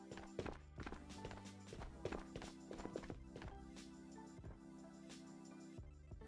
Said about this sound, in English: Got footsteps over there too.